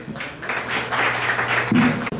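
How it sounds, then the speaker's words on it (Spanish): An audience breaks into applause, a short burst of dense, close clapping that rises quickly and carries on steadily, with a brief voice-like tone near the end. "démosle un aplauso antes que nada al compañero Esquivel"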